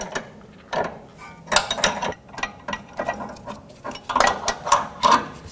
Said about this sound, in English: Let's release the tool.